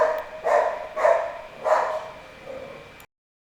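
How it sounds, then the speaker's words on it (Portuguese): A dog barks four times in quick succession at moderate distance, each bark sharp and fairly loud, with the last one softer, and no voices over it. "o cachorro tá latindo bastante"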